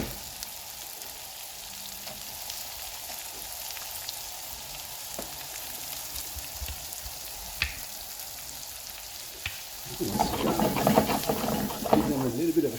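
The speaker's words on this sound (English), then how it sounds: "So let your butter. Let it sing. And add your vegetable." Vegetables hit hot butter in a pan for a quiche, a sudden loud sizzle and crackle breaking in near the end after a quieter stretch of low kitchen noise.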